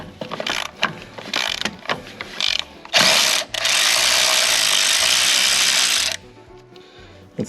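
A hand ratchet clicks in quick repeated strokes while removing the motor mounts on a 1977 Chevrolet C20 truck, then a longer loud grinding whir, and a few final clicks; no voices.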